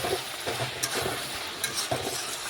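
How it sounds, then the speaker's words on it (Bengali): Ridge gourd with spices cooks in its own released water in a pan, a steady sizzle beneath a spatula stirring in regular scraping strokes about every half second, close and clear. "ঝিঙে থেকে যে জল বেরিয়েছে সেই জলটা থেকে আমি নাড়াচাড়া করে বেশ কিছুক্ষণ সময় নিয়ে"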